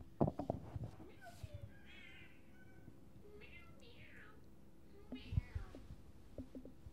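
Small cat meowing several times, soft rising and falling meows spaced apart, with quiet handling noises and brief low talk nearby.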